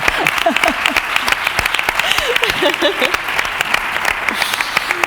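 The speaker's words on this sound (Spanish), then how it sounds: "Un aplauso" An audience claps at a Spanish conference on gender equality, dense sustained applause with sharp individual claps, close and steady throughout, with a few voices mixed in.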